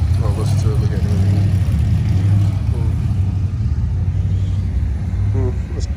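A twin-turbo drag race car engine rumbles loudly at an LS car festival, its low, steady idle and revs running throughout while people talk nearby.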